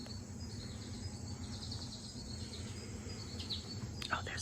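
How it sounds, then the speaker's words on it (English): Birds call faintly along a mountain hiking trail on the Appalachian Approach Trail, soft high chirps trading back and forth over a steady drone of insects and crickets, with no voices. "there's like 2 birds singing back and forth to each other"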